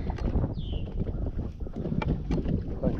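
Wind blows across a lake while fishing from a boat, a steady rough rush and buffeting on the microphone with a few faint knocks, fairly loud and continuous.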